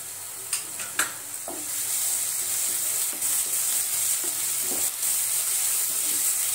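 Tomato with ginger garlic paste sautés for paneer bhurji, a steady close sizzle over which a spatula knocks and scrapes the pan a few times, louder early on, with no talking.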